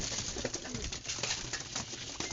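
Soft, low racing pigeon cooing repeats under a constant hiss of background noise; no voices.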